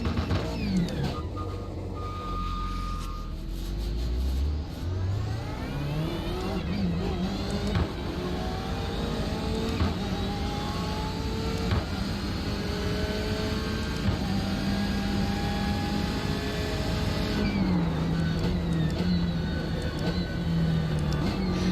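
A BMW race car engine in iRacing at Summit Point rises and falls through gears in a loud, continuous whine, with pitch sweeps climbing as it pulls away.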